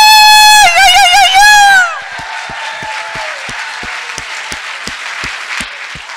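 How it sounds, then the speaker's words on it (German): A church congregation claps hands in applause. A loud sung or shouted voice is cut off, and scattered, steady clapping follows, continuing evenly with a soft crowd murmur underneath. "Gebt dem Herrn ein Klatschopfer!"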